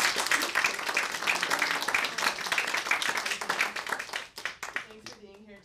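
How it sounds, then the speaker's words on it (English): An audience at a violin masterclass claps for the arriving violinist, a steady round of applause that thins out toward the end as a voice begins speaking. "So maybe we can give James a good round of applause."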